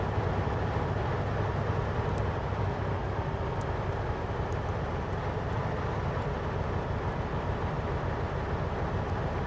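A continuous low rumble of a moving commuter train on the Bayport Branch, steady and loud throughout, with faint rattling and a few light clicks from the carriage.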